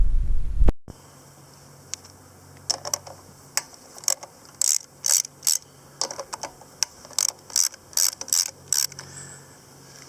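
A ratchet works nuts off the carburetor of a Poulan 21-inch lawn mower with a Kohler XT-series engine, rapid clicking pawl bursts in an irregular rhythm, close and crisp, after a brief thump at the start.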